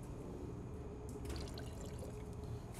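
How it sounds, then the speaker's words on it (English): Bug and tar remover is poured into a bucket of water, giving a faint, steady trickling and splashing of liquid throughout, with a slightly brighter patch of pouring near the middle. "I'm simply gonna apply about 1 ounce of product into this bucket of water here."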